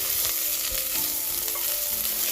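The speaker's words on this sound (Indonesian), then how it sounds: "Panaskan minyaknya dulu buat menumis bumbu halusnya yang tadi." Ground spice paste for soto ayam sizzles and fries in hot oil, a steady close crackling hiss with occasional stirring scrapes and no voices.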